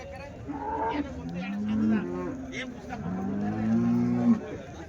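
Cows at a Sunday cattle market low in long, drawn-out moos, two or three calls rising and falling close by over a faint background of market noise.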